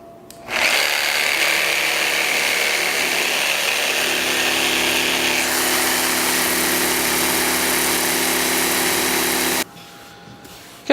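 A power tool roughly mills a thick 8/4 board into usable chunks for end grain cutting boards. The loud, steady whine starts abruptly, runs continuously for about nine seconds, then cuts off.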